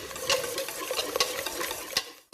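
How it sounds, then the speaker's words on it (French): Cupcake batter with melted butter is stirred vigorously in a bowl, giving a steady wet scraping and sloshing with a few sharper knocks of the utensil against the bowl. It is close and continuous, with no talk, and stops abruptly at the end. "Et je mélange à nouveau énergiquement."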